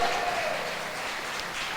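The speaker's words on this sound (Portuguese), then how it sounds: "Pode aplaudir o Senhor" Congregation applauding during a church service, a dense, steady wash of clapping that fills the space and fades slightly toward the end.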